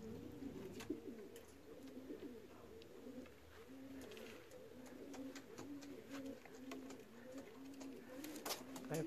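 Racing pigeons at the loft after a race, cooing repeatedly in soft rhythmic low calls, several birds overlapping nearby, with faint clicks and rustles in the background.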